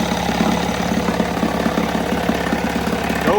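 A 1977 Johnson 9.9 outboard motor runs steadily after an electric start, its loud, rapid rhythmic chugging continuing evenly and close by with no talk.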